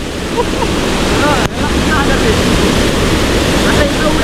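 Loud, constant roar of a flooded stream rushing in torrential rain, filling the whole scene with hardly a break.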